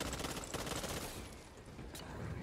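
Grenade blast and spreading fire from a Back 4 Blood co-op match, a dense, roaring wash of crackling noise with rapid gunfire-like bursts, loud and sustained throughout.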